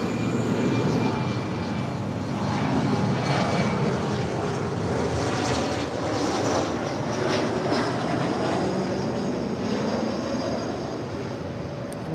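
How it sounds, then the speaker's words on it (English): A Bombardier Challenger 350 business jet at LAX produces a steady, loud jet-engine roar with a high whine, continuous for the whole stretch with no talking. "That is a Bombardier Challenger 350 from somewhere."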